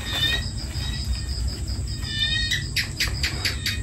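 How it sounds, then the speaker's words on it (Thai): Frogs and small tree frogs croak and chirp outdoors at night behind a house, giving a steady chorus of trilling calls with sharp repeated chirps near the end and no talking. "บรรยากาศเสียงกบเสียงเขียดเนาะครับ"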